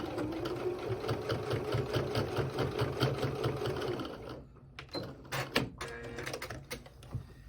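A sewing machine runs a continuous stitching burst with a rapid mechanical whir for about four seconds, then stops into a few short clicks and handling knocks, close and clear with no voices.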